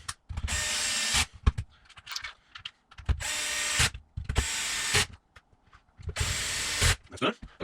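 Power screwdriver driving screws into a Traxxas X-Maxx RC truck during a steering servo swap, four loud buzzing whirs of about a second each with ratcheting clicks, separated by pauses and brief handling knocks.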